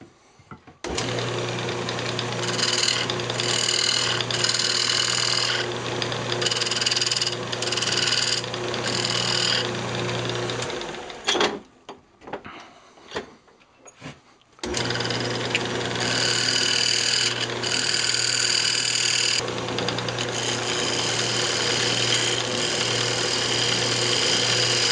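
Wood lathe turning a hamburger press, a steady loud motor hum with a continuous whir and tool scraping, cutting out briefly in the middle with a few quieter knocks before spinning back up.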